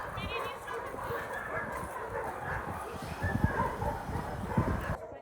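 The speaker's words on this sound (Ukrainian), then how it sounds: "Тут і дорослі собаки, і цуценята." Adult dogs and puppies at an evacuated animal shelter bark in quick, overlapping bursts, fairly close, over a noisy background with some other animal calls mixed in.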